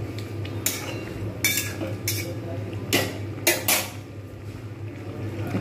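A spoon scrapes and knocks against a cooking pot while ghee is stirred into shukto, a Bengali vegetable dish; several irregular metallic clinks over a low steady kitchen hum.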